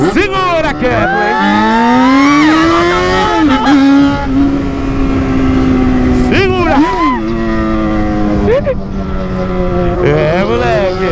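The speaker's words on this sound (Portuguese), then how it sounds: "Tô ouvindo um pouco, só porque o barulho da moto não deixa." A Yamaha XJ6 motorcycle rides along with its engine revving up and down through repeated gear changes, loud and close, while voices talk over the engine noise and wind.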